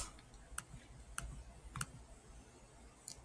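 Computer mouse clicking through software menus: about four crisp, faint clicks spaced irregularly across a quiet room, alone with no voice.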